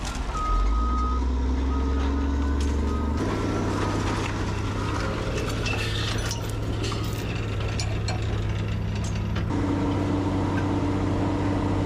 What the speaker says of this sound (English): Here comes one of our trucks in.